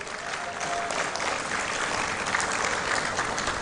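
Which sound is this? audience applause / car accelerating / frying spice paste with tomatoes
audience applause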